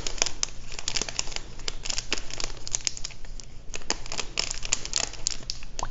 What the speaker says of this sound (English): Slip our MRE in and close this bag up.